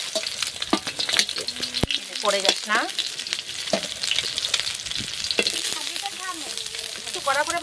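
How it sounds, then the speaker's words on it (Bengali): Eggs frying in a pan over a wood-fired stove at an outdoor picnic by a pond, with a steady close sizzle and scraping stirs, a brief spoken line, and chirping in the background. "এই দেখো ডিম ভাজাগুলো তো হয়ে এসেছে"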